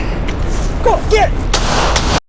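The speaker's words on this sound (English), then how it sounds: "They're firing shots at me." Gunshots fired in a forest, two or three loud, booming cracks heard close over steady background noise.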